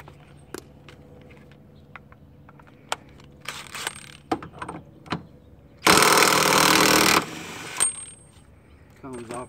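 An impact wrench with a 32mm socket rattles loose the rear spindle nut on a 2001-2005 Honda Civic in one loud, close burst of about two seconds, amid scattered clinks and handling of tools.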